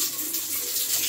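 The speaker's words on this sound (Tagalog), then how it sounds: "May batang nagsha-shower." Water runs steadily from a shower while a child bathes at home, a constant close splashing rush with no voices.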